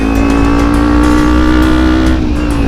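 A modified Kawasaki Ninja 250 FI supermoto engine revs hard and steadily, a loud, close, sustained droning roar with no talk over it.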